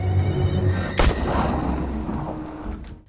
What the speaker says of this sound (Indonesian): mereka pun memaksa Jesse untuk menembak ayahnya sendiri